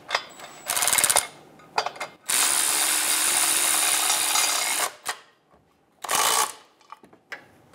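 Ratchet wrench snugging transmission bracket bolts on a 2008-2017 Buick Enclave 3.6L V6, with rapid close clicking in short bursts and one long sustained run, plus brief metallic taps and handling noises.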